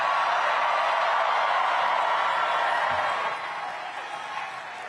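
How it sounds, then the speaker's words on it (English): A large crowd at a New York City mayoral election victory event applauds and cheers in a dense, steady wash of clapping that eases slightly toward the end. "please give them all a round of applause"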